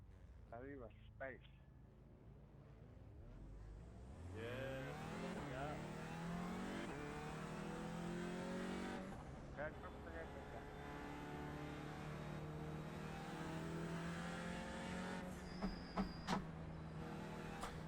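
A race car engine in the iRacing sim, revving and accelerating with rising and falling pitch through gear changes, steady and prominent beneath ongoing talk.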